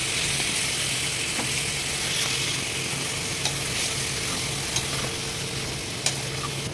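Chicken being stirred in a hot pan for chicken chukka, a continuous close sizzle with light scraping stirs and a few brief clinks, no voices.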